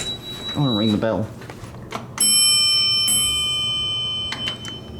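A bell on a Fujitec hydraulic elevator rings with a sharp metallic strike that hangs in a long, slowly fading ring. A voice talks briefly beforehand, and a few clicks follow.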